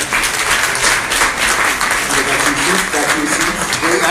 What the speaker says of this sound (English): So another round of applause to them.